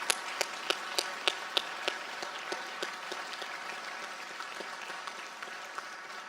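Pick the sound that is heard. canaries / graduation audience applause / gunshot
graduation audience applause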